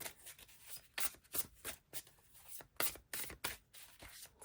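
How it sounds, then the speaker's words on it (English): A large, awkward Hay House oracle deck being shuffled by hand, with repeated bursts of riffling, sliding card noise in an uneven rhythm, close and fairly quiet, without voices. "it's got a really smooth shuffle"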